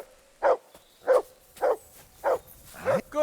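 A dog in Kingdom Come Deliverance II barks five times at an even, steady pace, each bark sharp and close against a quiet background.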